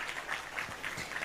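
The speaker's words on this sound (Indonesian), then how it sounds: "Tepuk tangan" Applause from an audience at an Islamic religious lecture, heard as a faint, steady wash of clapping that runs through the whole short stretch with no voices over it.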